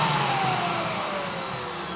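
A shop vac provides suction on a vacuum forming machine, a loud, steady close-up whine and rush of air with a falling motor tone, continuous across the whole stretch with no talking.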